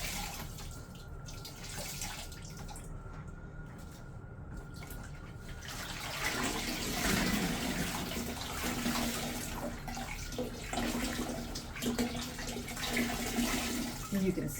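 Water is squeezed out of wet, freshly scoured raw wool held in a bag, running and splashing steadily in a sink or tub, louder in the second half, with faint background noise.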